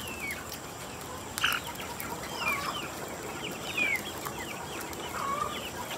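Dekalb Brown chickens about two and a half months old cluck and chirp, with faint, scattered calls over a steady background hiss and no talking.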